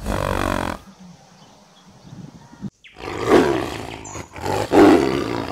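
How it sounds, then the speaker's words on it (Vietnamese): A tiger roars, two deep, rough bellowing bursts following a stretch of low rumbling, loud and close with brief near-silence in between. "Con hổ."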